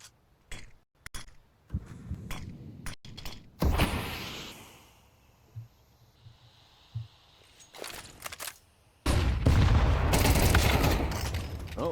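In a Counter-Strike match, several sharp gunshots crack in quick bursts, then a grenade goes off with a loud, booming blast that rolls on for a few seconds, close and heavy after quieter stretches of footsteps and movement.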